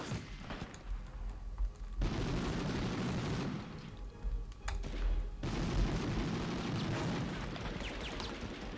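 Heavy enemy gunfire in the PS1 World War II shooter Medal of Honor, with dense bursts and booming shots pounding continuously across the scene, loud and close, with brief lulls between volleys.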